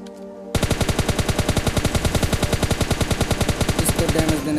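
Rapid automatic gunfire in the PUBG Mobile Lite battle game bursts in after a brief quiet moment and rattles on in a fast, even, loud stream of shots for several seconds.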